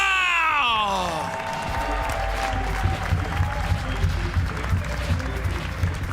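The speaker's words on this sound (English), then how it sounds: "Make some noise for the wonderful Daryl now." A large crowd at the finals of a live event in Tallinn, Estonia applauds and cheers loudly and continuously, rising after a fading musical tone.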